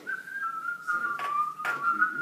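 A single steady whistled tone held close by, with a couple of brief breathy puffs breaking through it.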